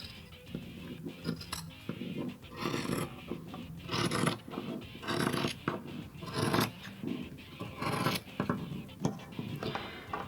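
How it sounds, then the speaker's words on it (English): Scissors snip across denim jeans being cut into a skirt, a run of crisp repeated cuts and scraping fabric strokes at close range, with no talk. "I'm just gonna cut straight across here."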